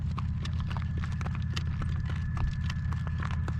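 A horse's hooves clip-clop in a steady, continuous rhythm as it is driven, with a constant low rumble underneath.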